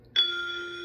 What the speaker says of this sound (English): that's the first bell